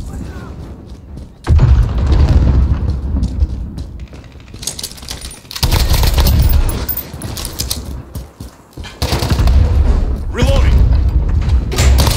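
Cruise missile killstreak in Modern Warfare Remastered, a loud, heavy booming blast that strikes at about 1.5 seconds, with further rumbling surges near 5.5 and 9 seconds under ongoing speech.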